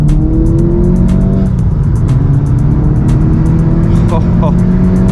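A 315 hp VW Mk7.5 Golf GTI, driven hard, holds a loud, steady engine drone with rising and falling harmonic sweeps through the gears. Road and tyre roar stays constant underneath, and a voice speaks over it.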